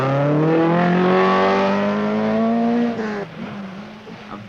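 Tony Pond's Opel rally car on the 1975 RAC Rally holds a loud, steady engine drone for about three seconds with a slight rise in pitch. The note then drops away sharply as the car passes and fades.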